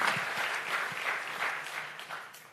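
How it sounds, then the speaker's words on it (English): Audience at an accelerator pitch night gives a presenter a sustained round of applause, dense steady clapping from a large crowd filling the room for the whole stretch, with no talk over it. "I think we should round of applause to Nathaniel."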